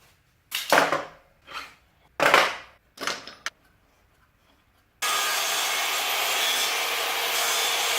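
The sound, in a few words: sawing a piece off wood for knife handle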